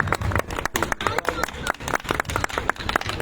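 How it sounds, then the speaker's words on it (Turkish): Audience at an outdoor picnic festival claps for a performer, brisk irregular hand claps from a crowd, close and lively, with voices mixed in. "O güçlü alkışlar sizler için gelsin."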